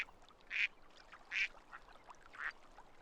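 Ducks quacking in The Sims 4 life-simulation game beside a pond: three short, clear quack calls spaced about a second apart, moderately loud over a quiet ambient backdrop, with no talk.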